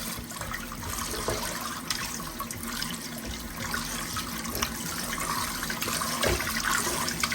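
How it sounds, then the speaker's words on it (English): Pig tails are rinsed under a steady rush of running water with vinegar, a continuous splashing and gurgling flow with occasional knocks and sloshes, close and fairly loud throughout. "we're just gonna wash our pig's tail real quick. Add a little bit of water, some vinegar."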